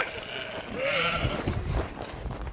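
Sheep in a Lake District field bleat close by, one wavering bleat rising and falling over wind and outdoor rumble, with faint further calls and shuffling.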